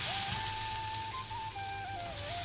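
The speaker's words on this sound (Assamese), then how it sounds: "এনেকৈ ভাজি ল'ম মই গোটেইখিনি নাৰিকল দি" Grated coconut fries in ghee in a pan, a continuous soft sizzle under a faint steady whistling tone in the background.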